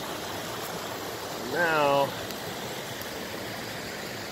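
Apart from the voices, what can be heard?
creek flowing near a waterfall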